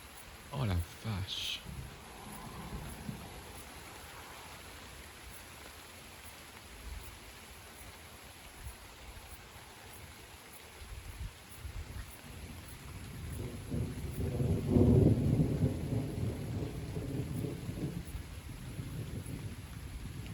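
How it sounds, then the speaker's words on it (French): Nighttime summer thunderstorm with steady rain falling and a deep rolling thunder rumble swelling midway, heard from outdoors with a person's voice faintly audible. "on est dans le bain d'un orage nocturne"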